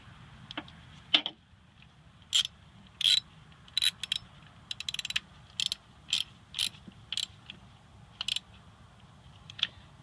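A ratchet tightens a glow plug nut on an 1985 Mercedes 300D diesel, giving a series of short, crisp clicking bursts spaced irregularly, close and clear over a low background hum.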